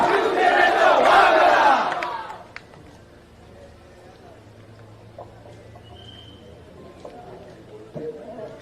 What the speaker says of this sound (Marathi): जोरदार टाळ्या वाजवून परशुराम उपळकर यांचं शिवसेनेत स्वागत करूया.